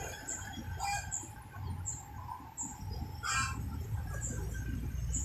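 Bangkok chickens at a bus ticket office on a morning, giving faint repeated chirps and clucks over steady outdoor background noise, with one louder call midway.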